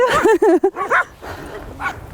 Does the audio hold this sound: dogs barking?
yes